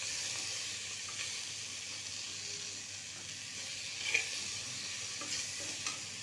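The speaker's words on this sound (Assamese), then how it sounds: "মধুসোলং মুঠি অলপ কাটি দিছোঁ সৰু সৰুকৈ, দি ভালদৰে লৰাই দিছোঁ।" Chopped madhusolong greens frying in a pan for an Assamese sour fish curry give a steady soft sizzle and hiss, with a few faint scrapes of stirring, close by and without talk.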